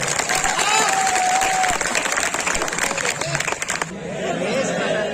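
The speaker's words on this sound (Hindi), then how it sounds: "एक बार दोनों हाथ खड़े करके तालियां बजाइए" Applause from a large audience at a Hindi poetry gathering in Pachore fills the room, steady and loud for several seconds, with crowd chatter underneath before it thins out near the end.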